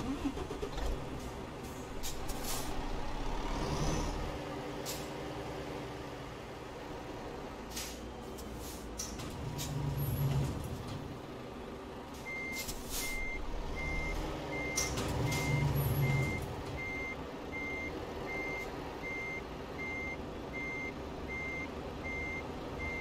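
A truck backing up to couple a trailer in Euro Truck Simulator 2: steady low engine rumble with a repeating reversing beep and short air-brake hisses, continuous and unaccompanied by speech.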